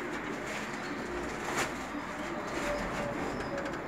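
Aslanbaş pigeons coo softly in a loft, with a few low cooing calls over a steady background noise, fairly faint and with no talk.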